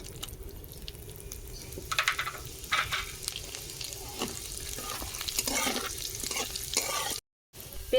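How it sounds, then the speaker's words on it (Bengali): Whole spices including dried red chillies, cloves, cinnamon, cardamom and cumin seeds sizzle and crackle in hot oil, with steady close frying and scattered stirring scrapes, ending with a brief gap. "এই যে গোটা গরম মশলা দিচ্ছি শুকনো লঙ্কা আছে লবঙ্গ দারুচিনি এলাচ আর গোটা জিরে দিয়ে দেবো"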